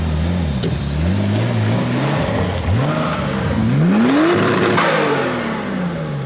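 A turbocharged Nissan 240SX engine revs up and down repeatedly, its pitch climbing and dropping with a whirring turbo whine over a steady rumble.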